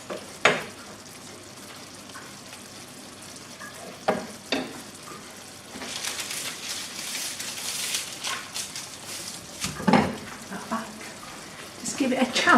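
Onions fry in a pan as balsamic vinegar reduces for a tarte tatin, a soft sizzle punctuated by several sharp stirring clatters and a louder bubbling stretch, with a person talking over it.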